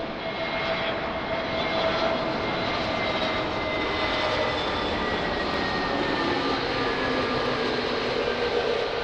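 An airliner on short final approach to Lisbon Airport drones steadily and fairly loudly, its engine roar broad and constant with faint whining tones, and no voices over it.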